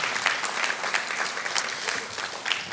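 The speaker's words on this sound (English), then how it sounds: "That deserves a round of applause" Audience applause after a state announcement of university funding at an event with Governor Hochul, UAlbany and IBM; a steady, moderately distant wash of many clapping hands lasting a few seconds, without speech.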